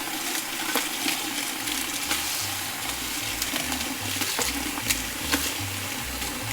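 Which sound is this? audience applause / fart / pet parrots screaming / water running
water running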